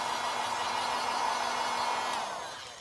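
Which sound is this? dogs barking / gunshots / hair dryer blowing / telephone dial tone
hair dryer blowing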